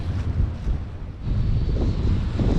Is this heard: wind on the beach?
yes